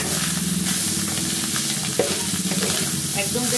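Bitter gourd (uchhe) fries in a pan, giving a steady, close sizzle with faint stirring scrapes and a small clink near the middle, continuing without pause.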